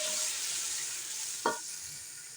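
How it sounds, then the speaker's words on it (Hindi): Masala spices frying in a pan for mustard greens saag, a soft steady sizzle with one brief louder stir or scrape midway, close and fairly quiet, no talking. "मसाले को अच्छी तरह भून लेंगे,"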